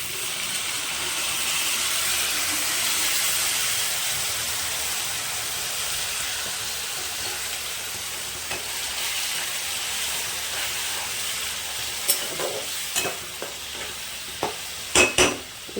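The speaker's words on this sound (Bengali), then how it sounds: "আমি অল্প জল দিয়ে ভালো করে কষিয়ে নেব।" Bengali spice masala for papaya moong dal sizzles steadily in a pan with a little water, a continuous close hiss, with a few sharp clinks of a spoon scraping the pan near the end.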